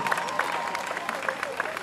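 Congregation at a church service claps and cheers in acclamation, a sustained wash of applause with voices and whistles over it.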